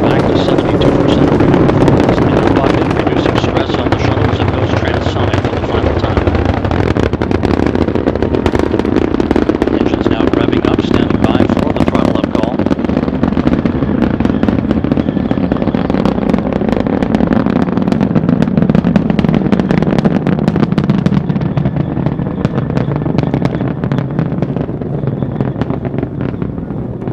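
Space Shuttle Atlantis on the STS-135 launch, its three liquid-fuel main engines throttled back: a loud, continuous rumbling roar with crackling bursts, slowly fading while a voice talks over it.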